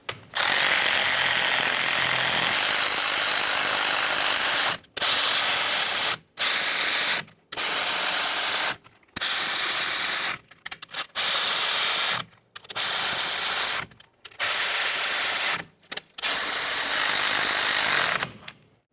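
A ratchet tightening bolts on the rear axle of a 1999-2006 Chevrolet Silverado 1500, heard in repeated close bursts of rapid clicking separated by short pauses, with no talking.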